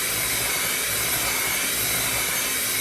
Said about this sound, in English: continue to mix it with the hand mixer until it is thin